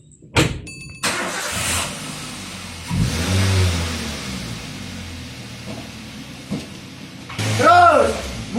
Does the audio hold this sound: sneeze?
no